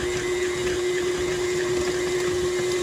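A mixer briefly blends Parisian flan batter, giving a steady, loud motor whine with a strong constant tone that holds evenly from start to finish, with no voices.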